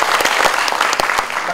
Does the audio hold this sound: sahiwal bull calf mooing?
no